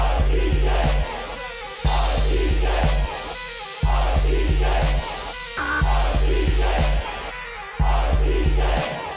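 Crowd cheering is layered into a hip-hop song, with roaring shouts returning in regular bursts of about two seconds over a pounding bass beat.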